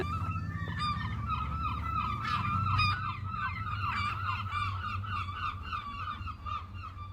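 Herring gulls call repeatedly, a string of loud honking, yelping cries in quick rhythmic bursts over a low steady background rumble, fairly close and with no voices.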